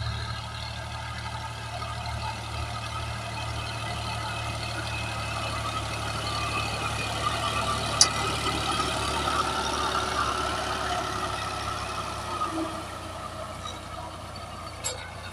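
A tractor engine runs in a peanut field with a steady, low, continuous drone at moderate distance. A few faint clicks rise briefly above it.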